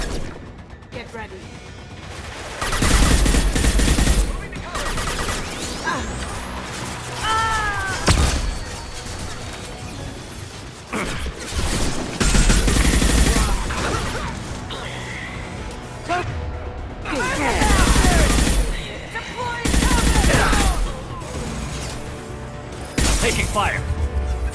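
Gunfire in Mass Effect 2 during Kasumi's Stolen Memory mission, bursts of shots and impacts over game music, with several loud clusters spread across the stretch and voices talking between them.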